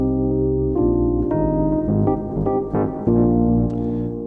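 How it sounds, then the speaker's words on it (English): Rhodes electric piano sample playing sustained, mellow chords with a few changes, close and clean, with no voices. "Gorgeous Rhodes sound"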